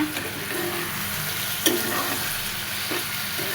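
Hilsa fish and ash gourd fry in a pan with a dense, steady sizzle. A couple of light scrapes or knocks rise above it, and nobody speaks.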